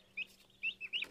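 Turkeys just brought home from a farm supply store give a few short, high, chirpy clucking calls, spaced apart and fairly close, with no talking.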